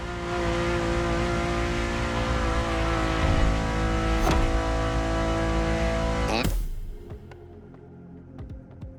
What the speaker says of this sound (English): And the car's voice sounds even better from inside.